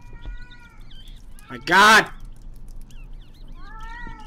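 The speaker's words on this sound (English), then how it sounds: "That was a cat!" One loud, drawn-out cat meow rises and falls close by, with faint chirping calls before and after, and a voice briefly exclaims in the background.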